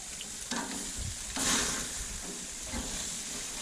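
A ribeye steak sears on a grill with a steady close hiss and sizzle, and brief louder flare-ups come and go without any talk.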